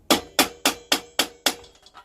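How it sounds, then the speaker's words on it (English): A hammer tapping a steel drift to knock the chuck out of a Titan pillar drill, six sharp close metallic taps in an even rhythm followed by a few lighter rattles. "then we'll just give it a gentle tap with a hammer"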